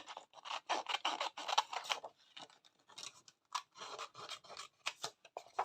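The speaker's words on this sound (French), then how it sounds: "Attendez, on va en découper une vite fait." Scissors snip a small paper pumpkin from a card for an autumn greeting card, in quick close bursts of crisp cuts with short pauses between them.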